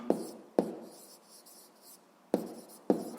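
Pen or chalk writing by hand during a Grade 7 physics lesson, with two quick pairs of scratchy strokes separated by a quiet pause, close and fairly soft, no talking.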